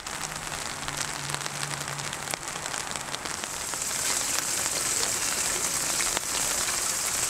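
Steady rain falls as a dense, continuous hiss that swells louder through the second half, with no speech over it.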